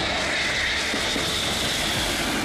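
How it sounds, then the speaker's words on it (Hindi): An Indian Air Force jet aircraft landing on a highway airstrip gives a loud, steady engine roar with a broad hiss that holds constant throughout. "आसमान में उड़ रहे विमानों ने लैंडिंग शुरू की"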